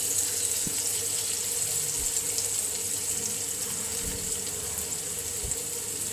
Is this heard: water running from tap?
yes